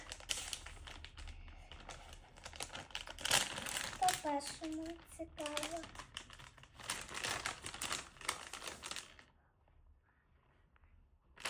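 Plastic Sbabam blind-bag packets of prehistoric sea predator toys crinkle and rustle as they are torn open and handled up close, with someone talking over the crackling.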